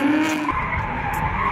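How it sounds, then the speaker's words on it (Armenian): Drift car tires skidding on a race track during a drift competition in Armenia, a sharp squeal followed by a sustained rough scrubbing screech, fairly close. "Այժմ տեսնենք ինչպես է հանդես գալիս նա դրիֆտ վարժությունում"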